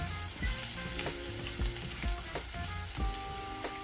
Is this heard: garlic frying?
yes